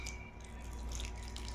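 Water trickles and splashes quietly as it is poured into a ground hair dye paste, a faint, continuous wet patter close by.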